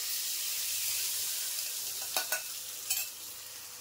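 Semolina and coconut mixture stirred and frying in a pan over low heat, a steady soft sizzle with a few sharper scraping clicks from the spoon near the end.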